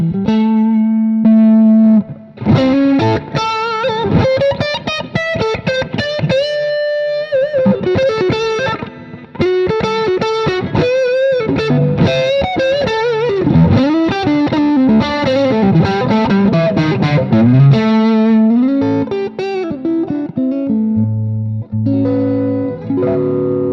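Electric guitar played through a tube screamer overdrive pedal into a BluGuitar AMP1 clean channel, crunchy driven chords and single-note lines with sustained notes, close and loud with no talking.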